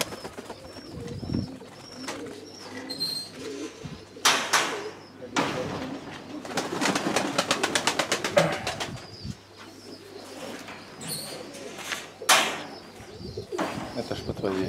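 Pigeons in a dovecote give low, soft cooing calls, interleaved with wing flaps, scuffles and knocks; someone talks quietly at intervals over the birds.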